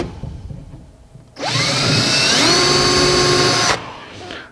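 A large drill bit bores into hard tiger maple on a corner cabinet, a loud power drill whine rising in pitch for about two seconds then cutting off, alone with no talk.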